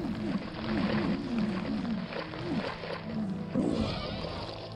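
A sea serpent in Gothic Archolos gives a run of wavering, moaning roars early on, followed by a fresh surge of sound near the end, set against a steady ambient backdrop.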